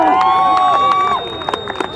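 Spectators at a women's professional golf tournament, the Joburg Ladies Open, applaud and cheer politely, the crowd noise rising in scattered bursts beneath a steady broadcast tone, with some babble in the mix.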